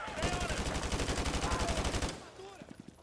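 Rapid automatic gunfire in Call of Duty: Modern Warfare Remastered, a dense loud burst of fast shots for about two seconds, then a few scattered single shots trailing off.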